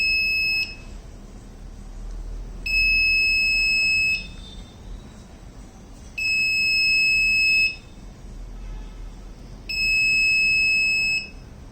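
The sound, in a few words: electronic alarm buzzer sounding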